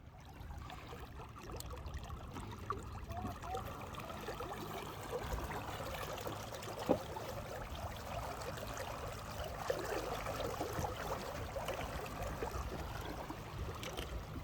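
An Intex Seahawk 4 customized raft moves across open water with its motor at speed 5, a faint steady motor drone under continuous splashing and gurgling water, no voices.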